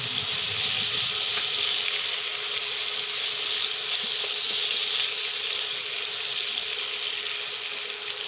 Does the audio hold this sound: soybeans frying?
yes